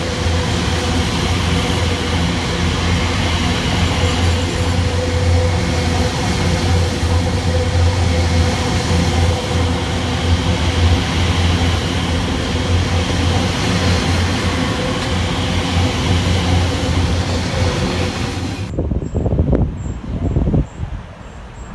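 A train runs through a station on the Great Eastern Main Line with a long, steady rumble and rushing noise, loud and close, fading near the end.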